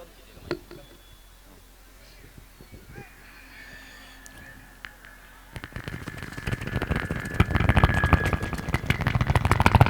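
After some faint scattered noises, a comedian on stage imitates a passing helicopter with his voice, building a rapid, chopping rotor sound that grows steadily louder as if drawing near.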